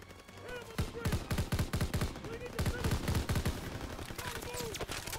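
Rapid bursts of gunfire in Call of Duty WWII, with clustered shots in uneven volleys over several seconds, close and punchy, with more distant shooting mixed in.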